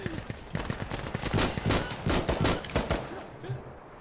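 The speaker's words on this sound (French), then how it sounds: "Ça tire de ouf" Heavy gunfire in the shooter Insurgency: Sandstorm, a dense run of loud overlapping shots and bursts, close and sustained over a few seconds, with some voices mixed in.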